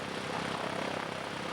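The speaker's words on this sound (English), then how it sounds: "It's propelled by a 260 horsepower PZL 9-cylinder radial, turning an 8'6" wooden constant speed propeller." A PZL-104 Wilga with a 260 hp PZL nine-cylinder radial engine turning an 8'6" wooden constant-speed propeller drones steadily and loudly at an airshow in New Zealand, with a dense, even engine roar and no voices.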